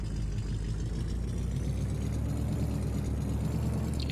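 Car engine in the Farming Simulator 2015 game, a steady mid-to-low droning motor note that holds constant and fairly loud for the whole few seconds, with no talking.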